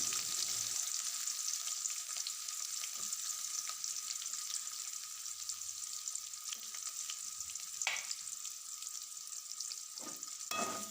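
Steady sizzling of chopped large onions frying in hot oil for a tamarind curry, close up, with occasional scraping stirs from a utensil and no talking.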